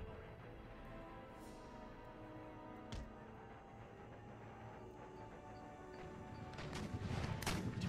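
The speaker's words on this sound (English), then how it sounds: "My howitzers are engaging the skirmish horsemen." Howitzers fire round shot during an Empire Total War battle, heard as a dull distant rumble of cannon fire with one sharper report, rising into a louder burst of firing at the end.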